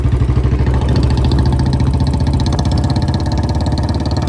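A Royal Enfield Bullet Standard BS4 twin spark motorcycle idles close by, a loud, steady, rapid thumping beat that holds even throughout and cuts off abruptly at the end.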